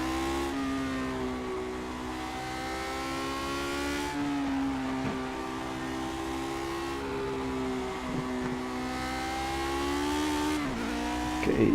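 A Lotus 49 race car in the video game Project Cars, its engine roaring loud and steady at high revs with shifting pitch through gear changes and a brief sharp burst at the end.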